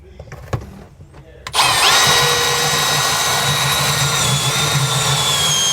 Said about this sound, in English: now I'm going to come back through with my pilot hole and line it up and punch through from this side